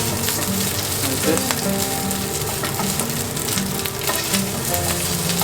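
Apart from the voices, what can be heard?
rice frying and being broken up in hot oil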